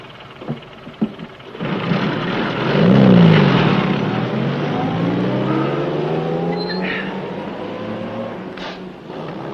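A tank engine drones as the vehicle gets moving, with a rising and falling rumble that swells loud, then settles into a steady mechanical roar, after a few short knocks at the start.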